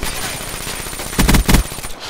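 Automatic gunfire rattles during a Hardpoint match in a shooter game, with two short, loud bursts fired close by over a steady background hum.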